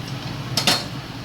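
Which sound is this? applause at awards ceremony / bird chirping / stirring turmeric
stirring turmeric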